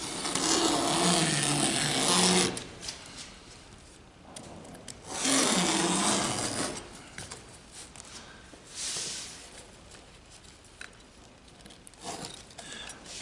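A razor knife trims the edge of a DIY vent cover in two longer rasping cutting strokes, followed by fainter scraping and handling sounds, close up with no talking.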